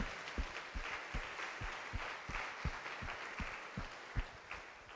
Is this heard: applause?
yes